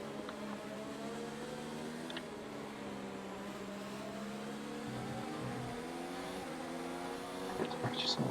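Mercedes Formula 1 car engine in the F1 2019 racing game at the Hungarian Grand Prix, a steady high-pitched whine with shifting harmonics and gear changes, under a speaking voice.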